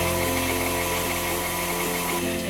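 Electric mixer beating cookie batter for Italian tri-colored cookies, a loud, continuous motor whir with a buzzing hum that stays steady the whole time and drops slightly at the end, with no voices.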